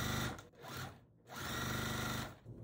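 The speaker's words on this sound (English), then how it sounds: "I'm gonna sew this to this piece right here" A sewing machine stitches quilt block fabric pieces together in two steady, loud, whirring runs with a brief pause between them, close up and with no talking.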